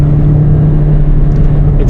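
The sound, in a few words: tire and road noise inside a 2020 Toyota Corolla while driving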